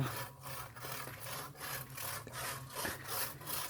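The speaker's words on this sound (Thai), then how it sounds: "กำลังเลื่อยไม้" A hand saw rasps back and forth through a wooden plank in a steady rhythm of repeated strokes, close and moderately loud.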